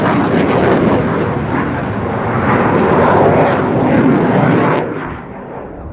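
Swedish Air Force SAAB Gripen fighter jet flying at an airshow, a loud continuous roaring engine rumble that swells and holds steady before easing slightly near the end, with no talk over it.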